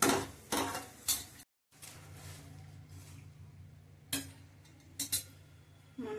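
Raisins frying in hot oil for corn chivda, a soft steady sizzle under metal clinks and stirring of a spoon against the pan.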